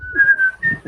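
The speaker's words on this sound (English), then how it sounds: "Who just whistled that? That was really good." A person whistles one clear, sustained note for under a second, close and loud, with a brief dip before the note resumes.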